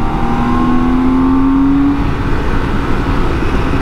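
BMW K1600 GTL motorcycle engine revving steadily as it shifts up and down through the gears without the clutch, a continuous loud drone with pitch rising and falling, heard close with no talking.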